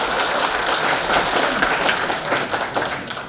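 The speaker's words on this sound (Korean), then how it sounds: "여러분 박수 부탁, 다시 한번 박수 부탁드립니다." Audience at a political forum and training seminar breaking into applause, a loud, dense wash of clapping from a packed room that holds steady and then thins slightly toward the end.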